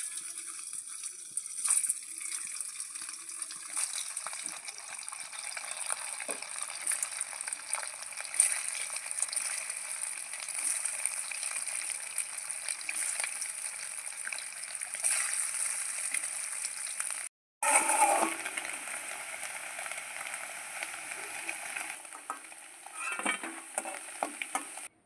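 Paneer pieces drop one by one into hot oil for a dhaba-style paneer curry, a steady close sizzle and bubbling that runs throughout, with a brief gap near the end before frying resumes.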